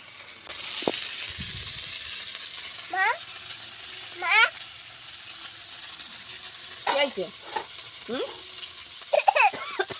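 A fish head fries in a pan with a continuous close sizzle and hiss, while bird-like chirps and a few short voiced sounds break in over the frying at intervals.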